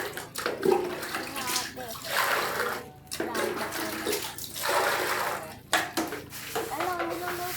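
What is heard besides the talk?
hot water poured over a chicken to scald it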